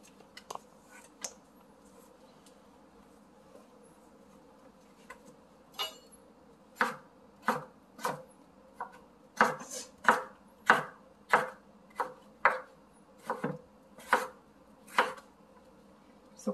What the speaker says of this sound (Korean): 앞장나서 채쓰기 해야죠. 이렇게 잘라 놓는다.